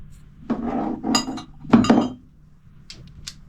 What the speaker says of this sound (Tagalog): Silsil at saka martilyo